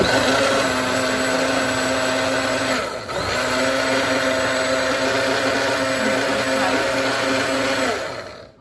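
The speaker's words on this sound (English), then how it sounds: "I'm blending some sweet pepper, some onion and some garlic" A kitchen blender whirs steadily as it purées sweet pepper, onion and garlic. The loud, even motor drone runs for about eight seconds, dips briefly partway through, then winds down at the end.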